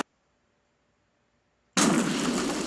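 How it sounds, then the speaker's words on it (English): A sudden loud explosion of a prop Jeep bursts out of near silence, a broad roaring blast that stays heavy and sustained to the end. "So did they just blow up their prop?"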